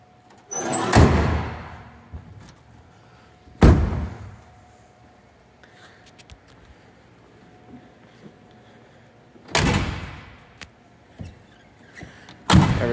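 Heavy doors on a 1957 Cadillac Eldorado Brougham shut with four solid, loud thuds spaced a few seconds apart, with quiet pauses and faint handling noise between them.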